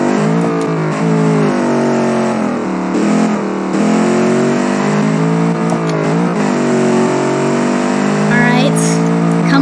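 A 90s track car's engine races in BeamNG Drive, a steady loud drone with rises and dips as it revs and shifts, while a voice talks over it continuously.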